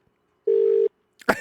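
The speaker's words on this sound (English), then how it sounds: "I heard the phone ring." A telephone gives a single steady electronic tone lasting under half a second, clear and isolated against near silence, followed by a brief handling clatter.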